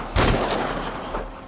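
Shotgun blasts from Shadow of the Tomb Raider: a sharp, loud close-range shot followed by a second burst and a fainter later report, with no talking.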